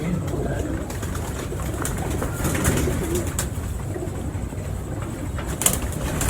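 Pigeons coo softly and repeatedly amid a steady, busy background hum, with a few brief bird calls and a faint flutter near the end, at a pigeon fancier's loft in Pindi, Pakistan.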